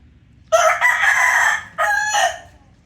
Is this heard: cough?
no